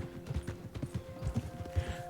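Horse hooves clip-clop in Red Dead Redemption 2, a quick run of close, soft thuds against a faint steady hum.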